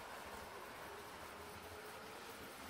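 A model locomotive runs on original Boucher wooden-based track, a faint continuous rolling rumble and whir, quiet and steady with no talking.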